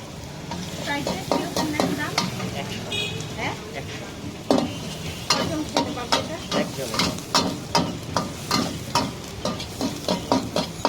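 Garlic and chicken stir-fry in a pan for a budget chicken dish, with steady sizzling broken by repeated sharp scrapes and clacks of a spatula in a fast rhythm, close and loud, and a voice talking faintly underneath.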